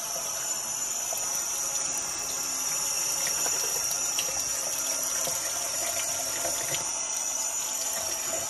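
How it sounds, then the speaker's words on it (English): Tap water runs steadily into a kitchen sink while winter vegetables from Long Island are rinsed of dirt, a continuous close hiss and splash with no talking. "what I'm doing here right now is just washing off the dirt"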